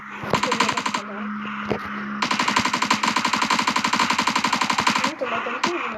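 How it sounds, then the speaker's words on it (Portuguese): Rapid machine-gun bursts fire in a zombie video game, loud, close and rhythmic, with a short burst, a brief pause, then a long sustained stream of shots and a few scattered rounds at the end. "Esse barulhinho aqui é da metralhadora, tá, gente?"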